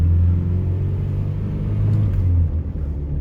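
A 1989 Nissan D21 4x4 pickup, running a little cold, drives along with a steady, close engine rumble that holds and then dips slightly near the end, with no voices.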